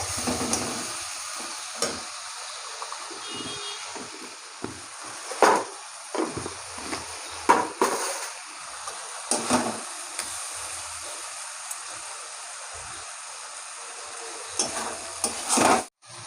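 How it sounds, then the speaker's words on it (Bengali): Spice paste for a chicken curry sautéing in a pan, a low steady sizzle broken by repeated scraping stirs at irregular intervals, close and moderately loud with no talking. "মশলাটাকে একটু কষিয়ে নেবো।"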